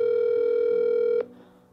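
A telephone ringing tone heard while calling someone, a steady electronic tone held for about a second before cutting off into quiet line noise, with no voices.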